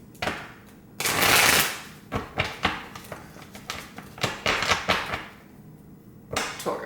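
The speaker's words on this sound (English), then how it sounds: "I'm going to shuffle real quick." Tarot cards being shuffled up close: a long riffle burst, then a run of quick separate snaps and flicks with short pauses, and one final riffle at the end, with no one speaking.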